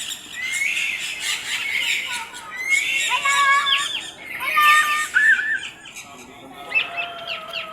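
Rescued birds of several kinds call and chirp at a wildlife rescue center in Quezon City, with bursts of bright, overlapping squawks and tweets repeating every couple of seconds, close and fairly loud.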